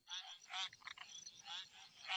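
A dwarf ridged frog gives short nasal calls, repeated in a few quick bursts, faint and close against a quiet background.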